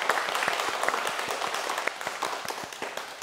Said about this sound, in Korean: 박수 한번 크게 보내요.